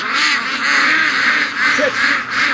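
A flock of ducks quacking nearby in a morning barnyard, several overlapping raspy calls in bursts, loud and close, with no talking.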